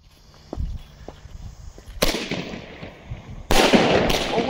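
An Egyptian Star firecracker from Biedronka goes off outdoors: scattered small pops and crackles lead into two loud, sharp bursts, each followed by a sustained crackling hiss.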